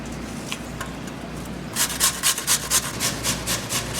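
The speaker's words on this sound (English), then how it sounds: "The next thing I'm going to do is grate the potatoes into the bowl with the onions." Potatoes being grated into a bowl of onions for vegetable pakora, a steady run of rhythmic rasping strokes that starts partway through and repeats about twice per second, close and moderately loud, with no speech.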